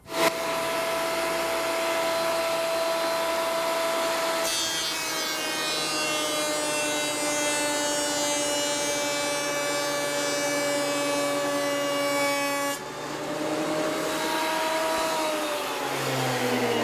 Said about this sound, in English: So let's take this to the planer and make it the right depth.